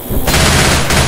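Gunfire in the video game Left 4 Dead 2, a loud, dense burst of rapid shots lasting about a second, with a voice mixed into the fire.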